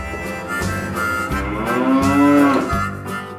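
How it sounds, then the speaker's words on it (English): A Jersey cow moos in a long, loud, drawn-out low call that rises and falls, heard close over a steady background of rhythmic music. "J is for Jersey cow."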